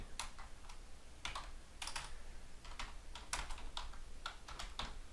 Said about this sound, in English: I'm going to type in some text